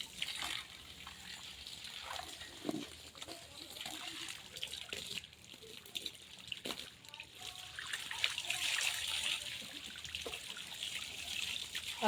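Water splashing and trickling during an outdoor bath, irregular pours and splatters close by, continuous through the stretch with a few sharper splashes and no clear talk over it.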